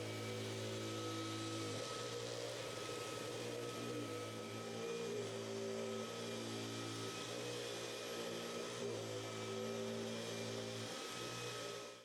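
Vacuum cleaner running continuously over a dirty carpet mat, a steady close motor drone with a faint pitch shift partway through and no speech.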